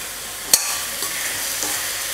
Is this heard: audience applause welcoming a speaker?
no